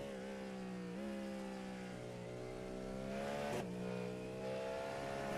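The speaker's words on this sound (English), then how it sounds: "A little bit of wheel spin coming down the hill through the roller coaster." A race car at VIR spinning its wheels down the hill through the roller coaster section, a steady droning engine note that dips and rises with a brief sharp shift midway, heard in a racing broadcast.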